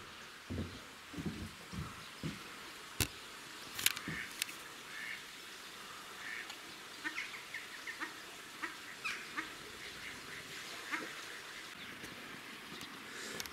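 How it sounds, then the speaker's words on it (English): Peacocks at Exmoor Zoo let out repeated short, honking calls, scattered irregularly over a soft outdoor background at moderate distance. "They're both peacocks and not peahens."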